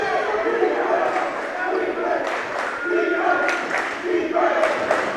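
A high school basketball crowd at a tip-off tournament game roars and cheers steadily and loudly for about five seconds, a dense wash of voices that swells in places, with no clear single speaker.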